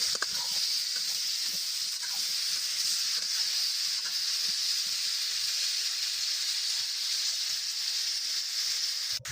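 Pumpkin and fish head frying in a pan with turmeric and salt, a loud, steady hissing sizzle throughout with faint occasional stirring underneath.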